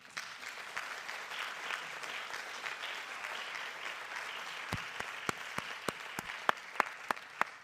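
Applause from attendees at a high school planning meeting, a steady patter of many hands that runs throughout, with a few sharper, louder individual claps standing out near the end.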